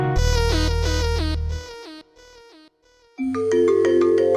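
A mobile phone rings with a loud melodic ringtone of bright repeating tones over a bass line, briefly dropping to a quieter passage before the full tune resumes.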